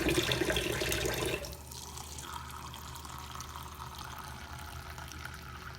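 Hot water pours steadily into a container for making Vietnamese yogurt, a louder rush for the first second settling into a softer, even stream.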